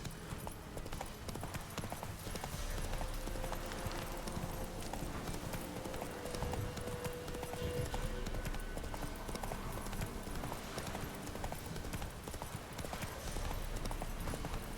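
A horse gallops in The Witcher 3, with rapid, steady hoofbeats carrying on throughout over a dense game soundscape of wind and ambience, loud and close.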